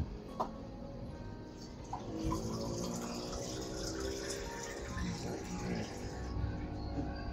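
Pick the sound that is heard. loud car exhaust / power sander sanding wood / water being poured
water being poured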